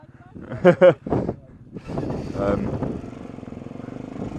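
Motorcycle engine idling with a light ticking on a slippery green lane in Hampshire, a steady pulsing idle with fast regular ticks heard under and after loud nearby conversation.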